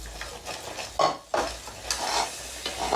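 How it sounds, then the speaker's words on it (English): Hot milk stirred into bechamel sauce in a pan, a close, wet swishing and scraping of a spoon in repeated strokes with soft bubbling underneath. "you slowly pour the hot milk in and keep on stirring so that it doesn't get lumpy"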